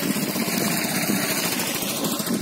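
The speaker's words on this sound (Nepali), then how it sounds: "खराब बाटोमा बाइक पनि आएछ देख्नुभयो आमा" A motorbike engine runs on a bad, very muddy village road with a steady, buzzing drone that stays fairly close and constant throughout, with no talking over it.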